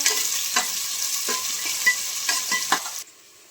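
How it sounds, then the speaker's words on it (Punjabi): Long-sliced onions sizzling in hot oil while being stirred for saag, a steady frying hiss with several scraping spoon strokes, close and loud, ending abruptly. "ਹੁਣ ਆਪਾਂ ਪਿਆਜ਼ਾਂ ਨੂੰ ਹਿਲਾ ਕੇ ਤੇ ਭੁੰਨ ਲਾਂਗੇ ਚੰਗੀ ਤਰ੍ਹਾਂ"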